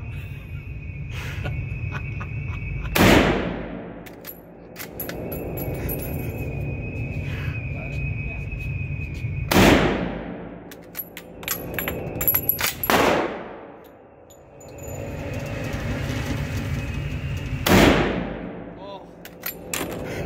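Several loud single shots from a Kar98k bolt-action rifle ring out several seconds apart, each a sharp crack with a ringing tail, between stretches of outdoor background noise and quiet voices.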